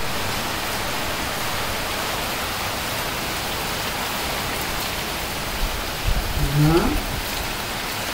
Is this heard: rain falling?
yes